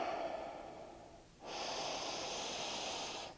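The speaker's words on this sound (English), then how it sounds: "Deep breaths here." Slow, deep breathing during a gentle yoga stretch: one long airy breath tapers off, then a fuller breath follows, close and soft with no talking.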